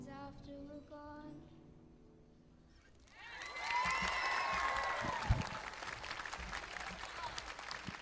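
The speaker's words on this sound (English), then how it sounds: "Let's give her another round of applause." A person sings at first at a school graduation ceremony, then a crowd breaks into sustained applause that stays loud and dense until the end.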